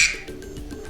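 The duck ringtone on an iPhone 11 Pro plays a short, close quacking call, with a few rapid nasal croaks following a sharp initial burst.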